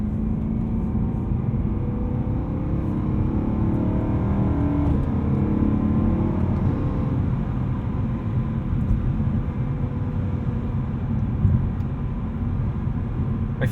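Tuned 2010 BMW E92 M3 climbing a steep hill, its engine droning steadily from inside the cabin with a deep, continuous rumble that swells slightly as revs rise and ease, heard alone without speech.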